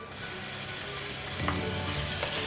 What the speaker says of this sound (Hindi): इसे भी हम 1 मिनट तक फ्राई करेंगे।